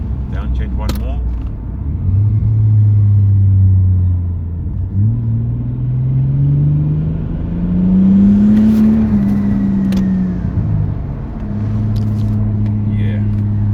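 A Toyota Supra Mk3 3.0 pulling through gears, its engine climbing in pitch, dropping at each shift and climbing again, with a downshift near the end, heard from inside the car with someone talking over it.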